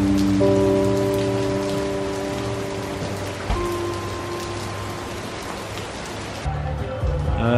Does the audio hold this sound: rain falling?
yes